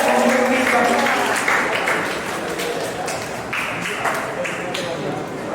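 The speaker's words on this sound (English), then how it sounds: "give Satya and Mohammed a round of applause" Audience applause at a problem-solving and ideation session, fairly close and loud at first and then thinning out into scattered individual claps, with faint voices underneath.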